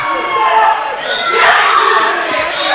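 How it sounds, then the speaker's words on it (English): A wrestling event crowd roars, cheers and shouts in a loud, sustained wash of many voices that swells midway, filling the arena with dense noise. "The dude continuing to pump this crowd up."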